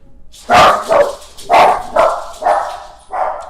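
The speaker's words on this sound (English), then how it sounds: "My dogs heard something at the door." Dogs bark loudly and close by, about six deep barks in a steady run with a brief gap near the end.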